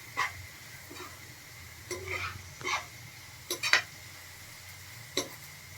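A spoon scraping and tapping in a pan as coriander-cumin powder and spices are stirred, a few scattered clinks and scrapes over a quiet low hum.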